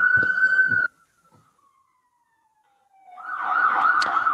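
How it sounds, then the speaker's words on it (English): A siren's steady tone sounds, drops away into near silence with a faint lingering wail, then swells back as another siren approaches. "I get so many damn sirens going by."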